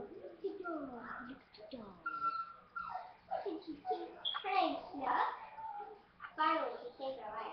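A pet dog whimpering and yipping up close in a home, a run of high, wavering whines and short cries that rise and fall, with someone talking in between.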